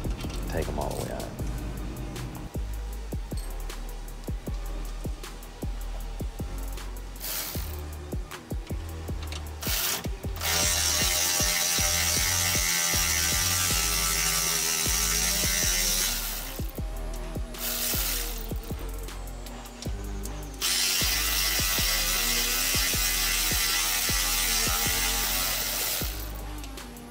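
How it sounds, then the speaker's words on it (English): Bolts on the sway bar of a 2018 Ford F250 being loosened with a ratchet, giving repeated clicking and metallic rubbing close by, with sustained louder tool noise partway through and someone talking at times. "I'm gonna go ahead and break loose these sway bars."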